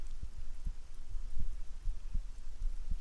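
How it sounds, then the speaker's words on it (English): A low, muffled heartbeat thumps in a steady rhythm, about two beats a second, close and soft against a quiet hiss, with no other sounds. "I can hear that freaking heartbeat again"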